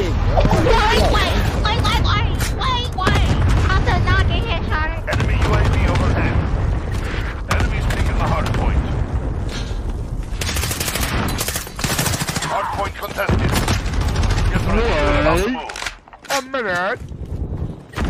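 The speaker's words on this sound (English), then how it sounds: "Ally cluster strike inbound." Loud battle sounds from Call of Duty Modern Warfare multiplayer: rapid gunfire and booming cluster-strike explosions pile up densely, while players talk excitedly over the chaos.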